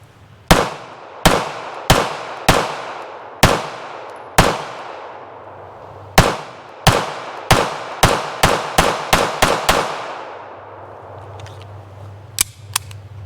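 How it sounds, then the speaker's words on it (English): A Springfield Prodigy 1911 pistol fired outdoors in a quick string of sharp, loud shots, spaced at first and then speeding up into rapid fire before stopping, with faint sounds afterward. "We'll let Fox have first shots. Going hot"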